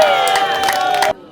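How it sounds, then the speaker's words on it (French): A crowd at a public gathering erupts in loud cheering and shouting with scattered claps, a dense roar that cuts off abruptly near the end. "Sa déclaration a été accueillie par une salve d'applaudissements nourris"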